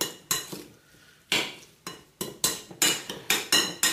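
Japchae marinade with sesame oil is stirred briskly in a bowl with a utensil, producing a quick series of loud scraping clinks that grow faster and more regular, alone without speech.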